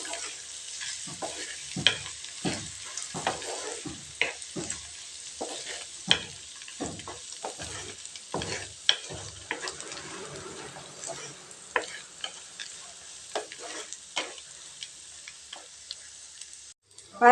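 Peanuts sautéed in a pan for a rice kara kozhukkattai dish, with a steady dry sizzle broken by a rapid series of sharp scraping stirs and clinks, close and fairly loud, slowing toward the end.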